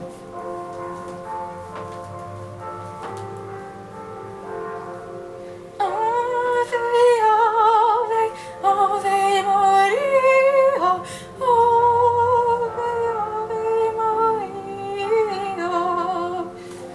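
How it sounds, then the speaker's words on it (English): Ringing bells with sustained, overlapping tones swell in partway through and keep pealing steadily over a low hum. "These bells again."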